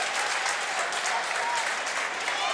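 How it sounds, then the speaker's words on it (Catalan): Crowd at a Valencian pilota youth final in Alcàsser applauding steadily, a dense wash of clapping with crowd murmur and a brief whistle partway through. "Ensordidor, l'aplaudiment, els xiulets i els crits."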